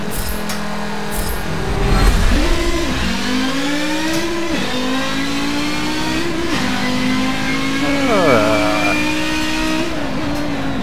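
An Audi 90 IMSA Group 5 five-cylinder race car in Forza howls through repeated hard accelerations, its rising engine pitch dropping sharply at each gear shift, loud and continuous without speech.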